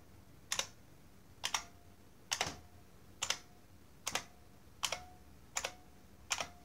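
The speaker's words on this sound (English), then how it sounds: "So I'm just going to type on it just so you can hear it." An IBM Model M buckling-spring keyboard after a bolt modification, its keys pressed one at a time about once per second, each sharp clacky strike close and distinct with faint spring ping, in a quiet room.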